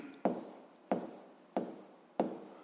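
Four evenly spaced bursts of a pen scratching on paper, each opening with a crisp tap and trailing into a soft scrape, close-up and quiet in an otherwise silent room.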